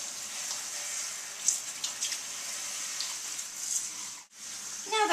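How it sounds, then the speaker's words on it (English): Tap water runs steadily over a wig of synthetic hair as conditioner is rinsed out, a continuous close hiss with small splashes and drips, no talk. "Now that we've thoroughly rinsed out all of the conditioner"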